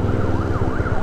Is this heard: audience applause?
no